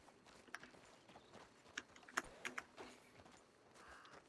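Horse hooves clip-clop in a video game, a scattered run of light, irregular taps at close range over a quiet backdrop with no talk.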